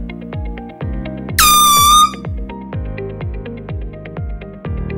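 A single loud, shrill blast under a second from a mini gas signal horn, a 1.4-ounce Seachoice can with a very small trumpet, cuts through steady rhythmic mechanical tapping and clicking in the background.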